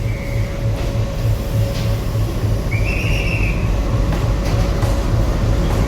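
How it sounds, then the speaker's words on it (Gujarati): A train arrives at Veraval station, rumbling steadily close by, a continuous heavy roll of wheels on track, with a brief high metallic squeal partway through. "જો આ ટ્રેન અત્યારે અહીંયા પહોંચી છે."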